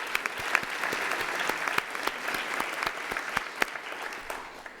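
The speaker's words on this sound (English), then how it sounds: "I think we should give them a round of applause." A large audience at a University of Johannesburg graduation ceremony claps steadily and warmly, a dense, even patter of many hands that carries on throughout without cheering.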